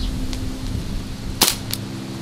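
An Umarex Legend P08 air pistol fires outdoors in the wind: one sharp, crisp pop stands out from a low background rumble, with a fainter click just after.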